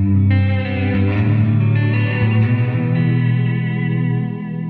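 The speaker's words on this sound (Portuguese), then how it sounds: "começando com um shimmer bem cheio de personalidade" A reverb and delay pedal set to shimmer washes a sustained electric guitar chord into a bright, octave-up, chorus-like cloud that swells and hangs continuously, loud and alone with no talk.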